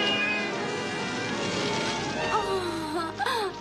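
A cartoon cat gives a couple of rising, wailing meows late on, heard over a busy, constant backdrop of music and noise.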